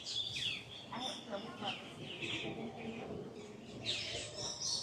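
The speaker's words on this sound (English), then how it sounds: "There's lots of parrots." Parrots at Disney's Animal Kingdom call with scattered, shrill chirps and squawks over a busy outdoor background, some near and some farther off.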